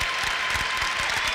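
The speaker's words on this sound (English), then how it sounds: "both teams given a nice round of applause by the fans in attendance here" Fans at a girls' basketball game between Boo Williams Tidewater teams and Canadian All Stars give both sides a steady round of applause, a dense wash of clapping filling the gym for the whole moment.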